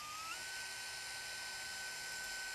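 A power drill whines steadily and continuously, close and moderately loud, while drilling a horizontal slider block for a Kitfox aircraft, its pitch rising slightly at the start and then holding constant.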